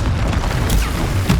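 A Confringo fire spell blast in the game Hogwarts Legacy, heard as a close, loud, rumbling boom with crackling fiery bursts and a whooshing sweep, over continuous low combat noise.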